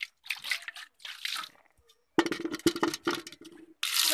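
Water splashes and trickles as a jug is rinsed and washed, in short bursts of pouring and sloshing separated by brief pauses, close and fairly quiet.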